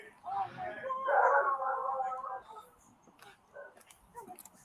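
A dog shot with a taser by police at a family home whimpers and yelps in distress, high whining cries rising and fading, with people talking around it.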